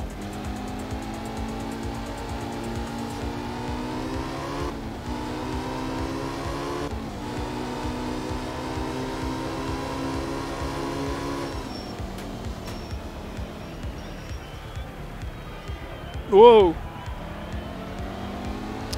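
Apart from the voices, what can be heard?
rally car accelerating on gravel, video game Art of Rally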